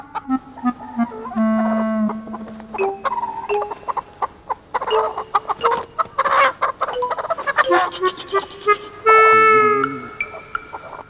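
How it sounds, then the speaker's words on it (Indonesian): A chicken clucks and squawks loudly and close in a comedy film scene, with a series of agitated cackles and drawn-out calls. Busy background noise and bursts of commotion run alongside the calls. "Nyolong ayam."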